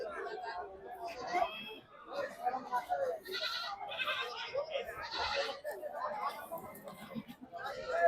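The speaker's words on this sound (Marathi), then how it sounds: "दादा कोणत्या आहेत शेळ्या? शेळ्या कोणत्या आहेत?" Goats bleat repeatedly amid a busy livestock market in Maharashtra that also trades sheep and chickens, with crowd chatter and nearby voices talking throughout.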